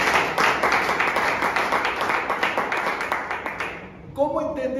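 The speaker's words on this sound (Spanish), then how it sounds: "Denle el aplauso al Señor." A church congregation claps loudly in a dense, steady burst for about four seconds before it cuts off and a voice begins speaking.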